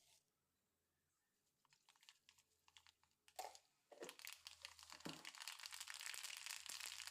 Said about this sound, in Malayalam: കടുക് നന്നായിട്ട് പൊട്ടിയിട്ടുണ്ട്